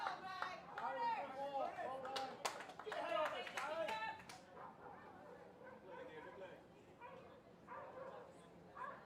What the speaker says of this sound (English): But I've never heard a dog bark like that.